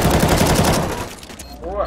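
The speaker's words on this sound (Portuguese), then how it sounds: "ele atirou mais dois aqui" Gunfire in a multiplayer shooter game, a rapid burst of loud shots in the first second that fades into a quieter stretch with faint game sounds.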